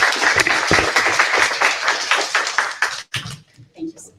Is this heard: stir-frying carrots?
no